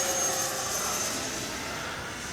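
Twin 64mm EDF Freewing F-14A Tomcat RC jet in flight, a steady continuous ducted-fan whine and rush held at an even level throughout, slightly fading as it moves off, with no talk.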